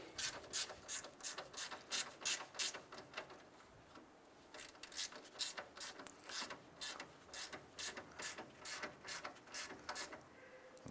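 A ratchet wrench clicks in rapid, steady bursts while snugging down a ground strap bolt on a 2001-2005 Honda Civic, the pawl ticking close and alone with brief pauses between strokes.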